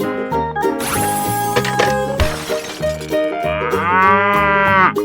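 A cow moos in a 3D animal slide video game, a drawn-out rising bovine call near the end over loud repetitive game music and crashing effects, with no speech.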